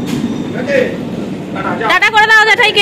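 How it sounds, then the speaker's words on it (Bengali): A train rumbles at a busy railway station, a low rolling clatter building toward the end, while people talk loudly close by. "তো আমরা কিন্তু স্টেশনে চলে এসেছি"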